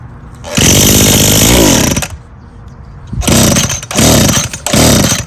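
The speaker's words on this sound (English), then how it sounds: "let's just do a little bit of trimming with it for right now" An Echo SRM2400 string trimmer, just repaired with a carburetor rebuild and fuel line fix, buzzes loudly close by while trimming, in about three bursts: a long two-second run and then two shorter revs after a pause.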